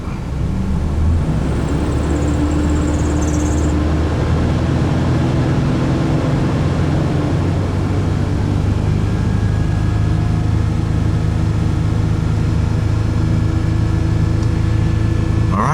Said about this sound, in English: Motor's holding together, and a little squealing of the belt, but battery appears fine.